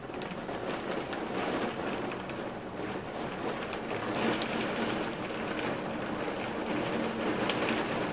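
Steady rain falls throughout, a dense, even patter and hiss with no one speaking.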